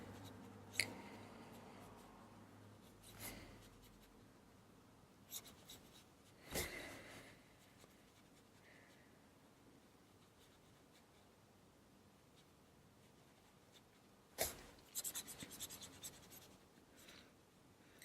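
A watercolor pencil drags across paper while someone draws vertical wooden planks on a whiskey barrel, making soft continuous scratchy strokes broken by a few sharper taps and scrapes over a long stretch.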